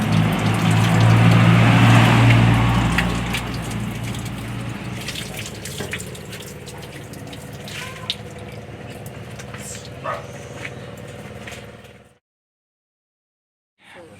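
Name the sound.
water being drawn from a village well pump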